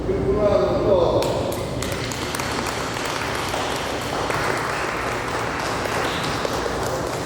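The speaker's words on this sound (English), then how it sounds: "Good round of applause." Audience applause at a community centre gathering with peace runners, with steady clapping from a room full of people and some tonal pings and voices early on.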